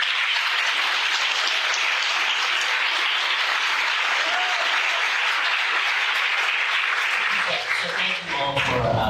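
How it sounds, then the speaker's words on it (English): Loud, sustained applause from families and friends at a medical school white coat ceremony, dense continuous clapping that fills the hall and begins to thin out near the end. "So I'd like to give an applause for that."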